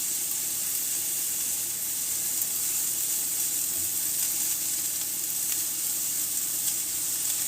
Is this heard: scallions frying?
yes